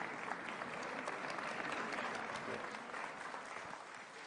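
Sustained applause from a large audience at a Kenyan presidential address, a steady dense wash of clapping held at an even level from start to finish before easing slightly at the close.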